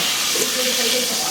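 Hot oil tempering (tadka) poured over paya curry gives a steady, loud hissing sizzle that runs through the whole moment without a break.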